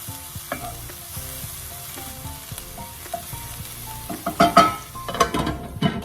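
An onion mixture fries steadily in a pan with a continuous soft sizzle, while a spoon stirs and scrapes against the pan in louder bursts near the end.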